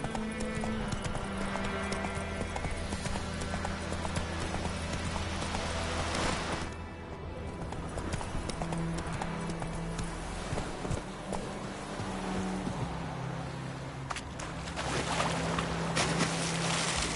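Horse hooves clip-clopping at a gallop in a PS4 video game, a steady rhythmic beat running throughout with a brief dip near the middle, over game music and ambience.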